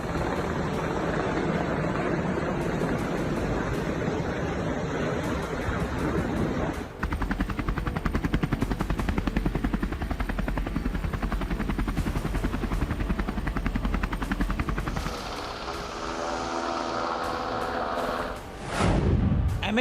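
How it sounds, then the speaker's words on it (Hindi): An MH-60R multi-role helicopter roars close by, a loud sustained rotor and turbine din with rapid blade chop, shifting in tone midway and swelling as it passes at the end. "MH-60R हेलीकॉप्टर की दहाड़"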